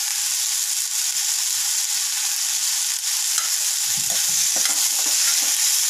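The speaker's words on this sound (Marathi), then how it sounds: "आणि व्यवस्थित मिक्स करून घेऊया" Raw mango vegetable curry is stirred in a hot pan, with a constant, loud, close sizzle and soft scraping strokes of the spoon against the pan that grow more frequent toward the end.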